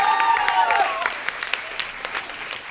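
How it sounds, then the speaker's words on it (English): Audience applause at a young-adult fan festival panel, a steady wash of clapping hands with a whistle-like tone and voices mixed in near the start, continuing at moderate level throughout. "Can we give a round of applause for Jay's blurb?"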